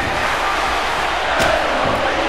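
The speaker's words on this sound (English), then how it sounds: "you hear the crowd?" Crowd noise from a wrestling video game match, a steady roar of cheering and chanting filling the whole stretch at a constant level, with no talk over it.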